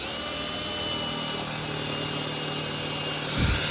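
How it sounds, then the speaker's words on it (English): A power drill bores into the sole of a Nike Air sneaker with a steady, loud whir that runs throughout, and a brief low thump comes near the end. "Oh, it's drilling."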